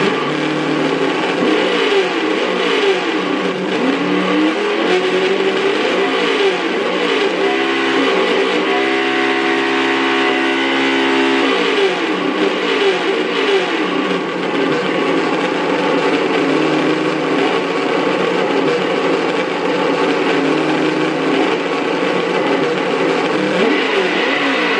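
Simulated engine sound from the onboard audio module of a Traxxas Slash 2WD brushed RC truck: loud, continuous revving with rising and falling pitch sweeps for about 25 seconds, no talking.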